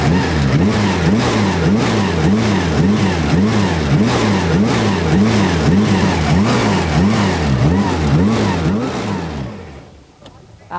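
A vintage racing car engine with a self-starter on the gearbox fires and revs hard in rhythmic loud surges, close by. It cuts off abruptly near the end.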